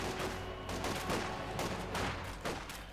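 Mortar rounds and gunfire from the Company of Heroes 2 strategy game rattle in a dense, continuous barrage of overlapping blasts and rapid shots.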